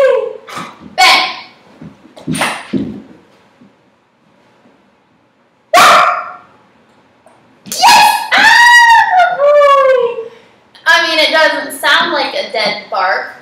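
A German Shepherd puppy barks a few times, short sharp yips and barks spread out, with people talking and encouraging between them during play-dead training, close by.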